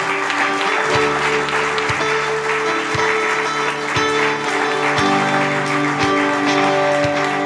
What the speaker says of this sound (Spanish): Así que dale un aplauso al Señor, hermano y hermana.